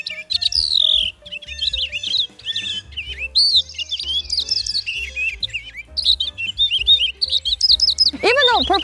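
Purple finch singing a warbling song: rapid, tumbling runs of bright chirps and twittering notes, close and clear, continuing almost nonstop with a lower thumping background underneath.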